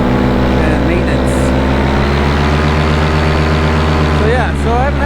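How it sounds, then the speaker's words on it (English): A Rotax Atom 80 engine idles steadily with a loud, even low rumble and fine regular pulsing throughout, while a voice talks over it. "I haven't had to do anything really to this engine. Still purring away"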